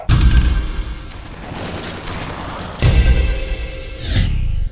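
Shotgun blasts from the video game Dead Effect 2: a loud booming shot at the start, a second heavy blast near the three-second mark and a third toward the end, each trailing into a reverberant rumble with no talking.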